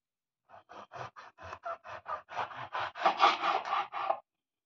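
A knife saws through a pomelo, a large grapefruit-like citrus, cutting it into pieces: a run of about a dozen short rasping strokes in steady rhythm, close and clear, growing louder and denser toward the end, with no talk.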